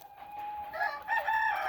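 Chickens, including a rooster crowing, near a laying barn that houses about 80 laying hens on an off-grid farm. Fairly faint, drawn-out calls rise twice over quiet barnyard background.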